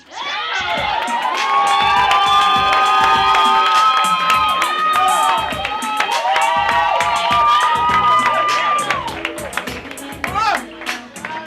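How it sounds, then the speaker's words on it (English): Open mic night audience at a spoken-word event claps and cheers loudly, with whoops and shouting voices layered over steady applause, sustained throughout before tapering near the end. "y'all just keep clapping"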